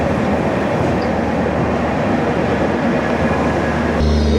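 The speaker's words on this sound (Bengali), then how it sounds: "এই যে পাশে যে ট্রেনটা ঢুকছে এটা হচ্ছে মুম্বাই সেন্ট্রাল" The Mumbai Central–Ahmedabad Shatabdi Express rolls in on the adjacent track near Navsari, a loud, close, steady rumble of wheels and carriages with a faint squeal, no voices.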